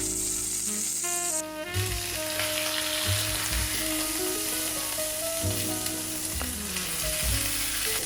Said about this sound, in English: add that to the heated oil. You're going to want to brown it on each side.